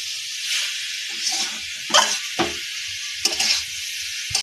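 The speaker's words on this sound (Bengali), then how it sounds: "জল হয়ে গেছে, এবারে নাড়াবো।" Chalta pickle being stirred in a pan as it cooks down, with a soft steady sizzle broken by several scraping strokes of the spoon against the pan, close and clear, with no talking.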